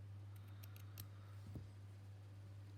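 Scissors trim the bottom of a small stitched craft piece, a few quick faint snips close by over a steady low electrical hum.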